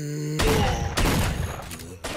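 Rapid gunfire bursts in S.T.A.L.K.E.R.: Shadow of Chernobyl, aimed at zombies. Loud close shots crack in a quick cluster and echo, and a low background hum sits underneath.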